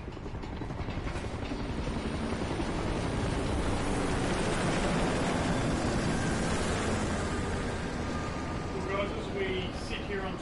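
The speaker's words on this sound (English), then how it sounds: "Chopper's landing." A helicopter lands in the video game Call of Duty Ghosts, its steady, dense rotor and engine roar filling the scene at close range while game voices speak over it.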